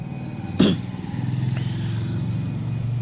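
A Euro Marvel 125 motorcycle starts with a sharp burst, then settles into a steady, close idle with a low throbbing rhythm and no one speaking.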